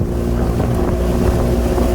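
A small boat with a Yamaha 15 outboard motor runs on open water, the engine droning loud and steady with wind buffeting the microphone throughout.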